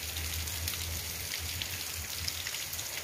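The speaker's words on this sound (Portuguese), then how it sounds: "Essa chuva maravilhosa aqui em Fortaleza." Steady rain patters on a roof in Fortaleza, Brazil, a dense even hiss with a low hum underneath and no voices.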